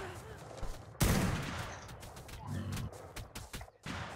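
Gunfire in the game Ark during a raid on a Valguero tree base, with a sharp burst and then repeated rapid shots, some close and loud, others more distant, mixed with game noise.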